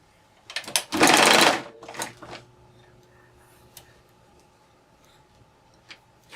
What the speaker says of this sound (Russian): Это боковой шов юбки сострачиваем.